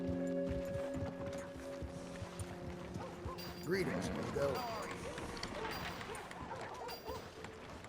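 Horse hooves clip-clop at an easy walking pace in Red Dead Redemption 2, fairly soft and steady beneath game ambience and a short spoken greeting.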